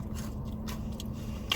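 A bite into a crunchy, thick-battered fried chicken nugget gives a short, close crunch over a steady low background hum, ending in a small sharp crack.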